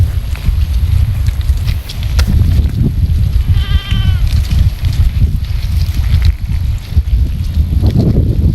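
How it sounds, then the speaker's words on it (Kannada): Goats bleat briefly amid the constant hum and rumble of an outdoor farm setting near a dried-out maize field, a single short quavering call standing out over steady background noise. "ಮೇಕೆಗಳನ್ನ ಹೊಲಕ್ಕೆ ಬಿಟ್ಟು ಮೇಯಿಸಿದ್ದಾನೆ"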